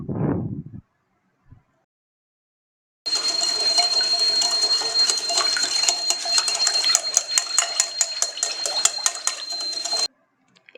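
Sugar being beaten with the wet ingredients for an eggless apple cake. It makes a steady run of rhythmic clinking and scraping against the bowl for about seven seconds, close and fairly loud, with no talking.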